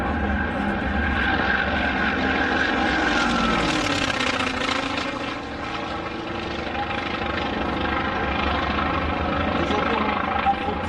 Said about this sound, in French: Des avions un peu terrifiants à voir et à entendre passer.